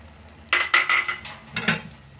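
A spoon stirs finely chopped dates and almonds into a sooji ladoo mixture in a pan, giving four or five close, distinct scraping clinks in an uneven rhythm.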